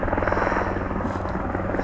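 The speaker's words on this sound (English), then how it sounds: "We have a helicopter flying overhead." A helicopter passes overhead with a loud, continuous rotor thrum and a pulsing low buzz, steady and fairly close.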